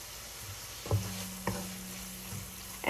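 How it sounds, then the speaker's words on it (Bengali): Spices frying in a pan for a potato and spinach curry, a steady close sizzle broken by a few sharp spoon scrapes and stirring knocks, with no talking. "এখন এটাকে ভালো করে কষাবো"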